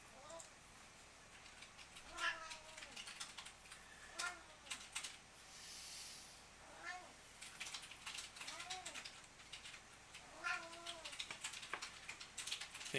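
A pet cat meows repeatedly indoors, several drawn-out, wavering cries spaced a few seconds apart, fairly close and soft, over a quiet room with light tapping in the background.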